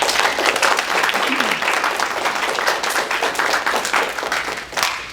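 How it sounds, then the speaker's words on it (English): Sustained applause from a crowd, dense and steady clapping filling the whole stretch, fairly loud with slight dips near the end. "So, please, one more round of applause for our contractors."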